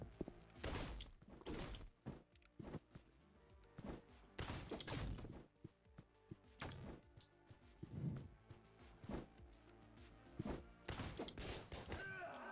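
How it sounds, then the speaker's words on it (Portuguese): Gunshots in the video game Katana Zero crack out as sharp, loud bursts scattered across the stretch, mixed with thumps and crashes over a busy game soundtrack. "Nossa, olha lá, dois tiros."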